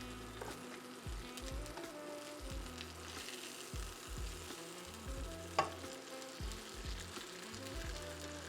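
Sausages for street-style hot dogs sizzling and crackling in a pan as they are flipped, with a busy bed of frying hiss, scraping clatter and one sharp clack, fairly close and moderate in level with no talk.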